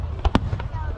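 Fireworks at the Nagaoka Fireworks Festival go off as two sharp, loud booms close together, followed by a fainter burst as the sound fades into the crowd.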